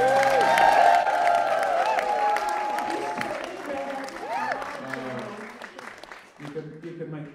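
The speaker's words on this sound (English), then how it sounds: "Give me a huge round of applause." Theatre audience at a live folk concert claps and cheers, a fading round of applause heard under sung and spoken voices that continue as it dies down.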